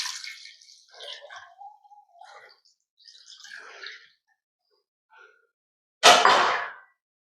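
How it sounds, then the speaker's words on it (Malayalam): Beaten coconut milk being poured into a homestyle fish curry: faint scattered drips and trickles, then a short, louder splashing pour near the end. "ഇനി നമ്മൾ ഇതിലേക്ക് ഈ അടിച്ചു വെച്ച നാളികേരപ്പാൽ നമുക്ക് ഒഴിച്ചു കൊടുക്കാം."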